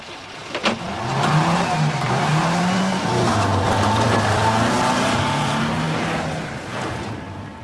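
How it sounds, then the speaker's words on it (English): A car engine roars loud and sustained, its pitch climbing and dropping as it revs hard, with no talk over it. "You'll wear out the engine."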